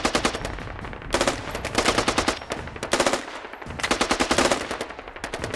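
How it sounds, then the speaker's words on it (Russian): Sustained machine-gun bursts in the military shooter game Squad, rapid loud rattling volleys with brief pauses between strings of fire, dense and close with no talk over them. "Жесткая перестрелка."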